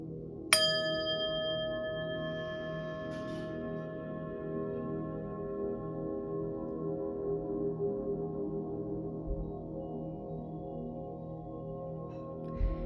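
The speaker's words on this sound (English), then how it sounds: "I'm going to ring the bell, I'm going to clear the energy" A bell struck once, ringing out sharply and fading slowly over several seconds above a low, steady background hum.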